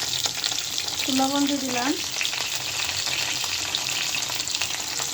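Slices of pointed gourd (potol) sizzle in hot oil with a steady, bright crackle, and a voice speaks briefly over the frying.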